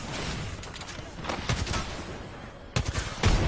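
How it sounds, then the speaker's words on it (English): Video-game gunfire crackles in rapid bursts, near and fairly loud, with short pauses between volleys and sharper shots near the end. "we're getting shot at"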